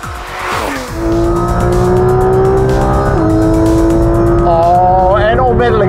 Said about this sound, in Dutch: die motor die komt gewoon tot leven boven de 5000 toeren